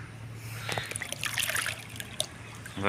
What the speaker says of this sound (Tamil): இந்த தண்ணி ஓடுது ஓடுதுங்களா